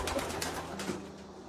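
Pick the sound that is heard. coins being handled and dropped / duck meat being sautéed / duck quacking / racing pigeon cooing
racing pigeon cooing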